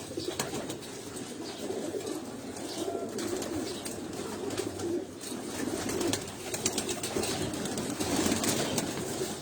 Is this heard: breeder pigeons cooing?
yes